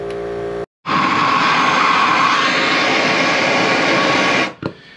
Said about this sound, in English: we need to wait for the compressor